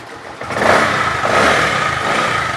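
Second-hand motorcycle with electric start, about 17,137 km on it, idling and running in the open; a steady, fairly loud engine drone that swells slightly after the first half second and holds without speech.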